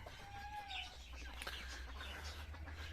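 Hens cluck softly and intermittently at a distance over a low, steady background hum.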